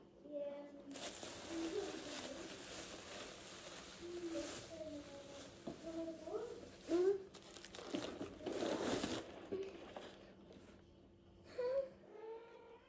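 Crinkly paper and plastic rustle and tear in bursts as a package is opened, with people talking softly throughout.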